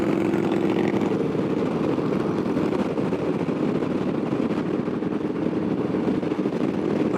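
Harley-Davidson motorcycle on the road, a continuous engine rumble mixed with heavy wind buffeting, steady and close throughout.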